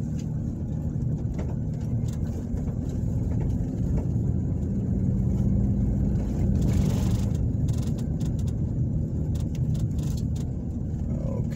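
A car driving down Poplar Avenue in Ozark, Alabama, heard from inside as a steady, moderately loud low road and engine rumble that continues throughout with no talking.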